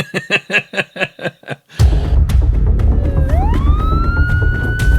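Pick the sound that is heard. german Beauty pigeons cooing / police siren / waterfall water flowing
police siren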